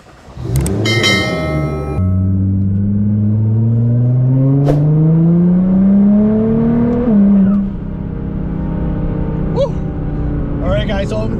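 A car starts and pulls away for a drive, its engine revving up loudly with a smooth rising tone that then settles into steady running, with a few faint clicks and chimes near the end.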